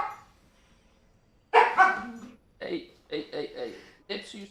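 A puppy barks in a few sharp, yappy bursts close by, with short pauses between them and a person speaking around the barks.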